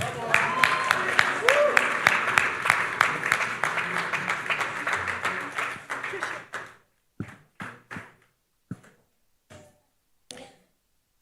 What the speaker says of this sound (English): Please keep applauding her.